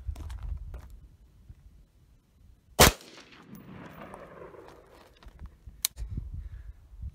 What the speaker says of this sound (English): I'm gonna shoot it one-handed.